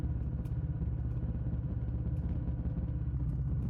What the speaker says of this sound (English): The engine settles into rhythm.